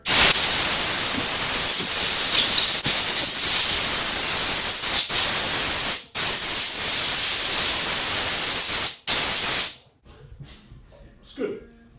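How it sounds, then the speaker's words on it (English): A loud, steady blast of compressed air hisses for several seconds blowing water off a Kawasaki Z125 Pro chain, interrupted by brief pauses, then stops, leaving faint rustling and quiet handling noises. "I like to take some air and just blast off all the water, get it nice and dry"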